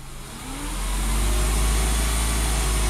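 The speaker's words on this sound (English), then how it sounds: "Let's raise the RPMs a little bit." A Subaru engine under diagnosis for a P0420 catalyst fault is revved up from idle, its low rumble rising and holding at higher RPM, loud and close with no talk.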